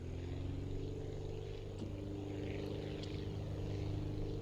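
A steady propeller aircraft engine drones at full power during takeoff in the video game Aviassembly, a continuous close hum with no talking.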